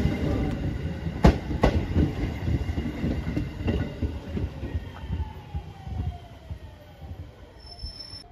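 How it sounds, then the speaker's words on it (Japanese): JR Shikoku 7000 series local electric train bound for Takamatsu on the Yosan Line in Ehime, rumbling and clattering as it draws into the station, with wheel squeal and brake tones rising near the end, no voices. "9時47分着。 7000系普通電車高松行きです。"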